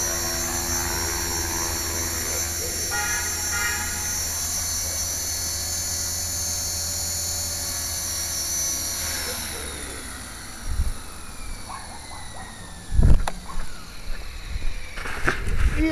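A radio-controlled helicopter fitted with a new Ino-Lab HGD-201HB tail servo whines loudly at full throttle with steady rotor and motor tones, then spools down as it lands, followed by faint handling clatter and brief talk.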